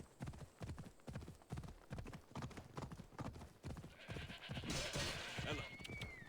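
In Assassin's Creed Odyssey, a ridden horse's hooves clip-clop in a steady, close rhythm, then give way to a whinny and other animal calls near the end.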